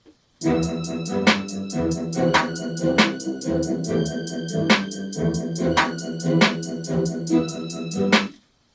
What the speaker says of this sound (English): a super simple hi-hat, and a couple snares here, and that sounds like this.